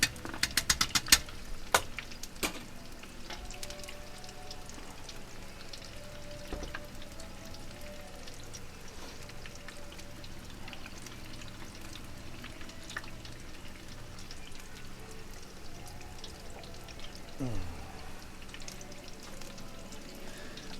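Chicken wings deep fry in a fryer, a steady low crackling and bubbling hiss that continues evenly throughout, with a few sharper pops and clatters near the start.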